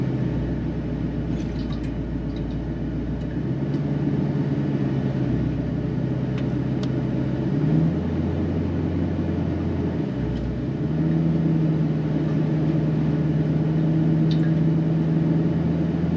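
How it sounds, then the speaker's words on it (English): Truck reversing to pull cable through the cable scraper at the back of a dozer, a steady low engine rumble with slight pitch changes and faint clanks, sustained and close throughout. "We're going to back the truck up and we're going to pull some cable through the back of the machine"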